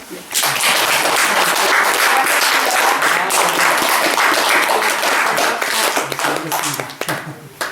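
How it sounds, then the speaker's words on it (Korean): Strong, dense applause from a seated audience at a talk, starting abruptly and holding steady for several seconds before thinning into scattered claps, with voices mixed underneath. "자, 이거 박수 칠까요?"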